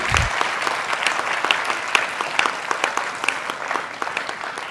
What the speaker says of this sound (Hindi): मैं चाहूँगी एक बार उनके लिए पहले ज़ोरदार तालियां हो